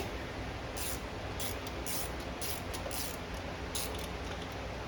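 A 12 mm brake bolt on a 2016 Honda Civic being turned out with a ratchet, giving a run of quick, close clicks in short bursts over a steady hiss of background noise.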